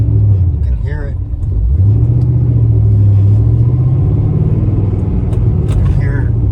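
A 2007 Ford Mustang with a newly installed engine idles and revs with a loud, steady low rumble, close by and continuous throughout, while someone talks over it.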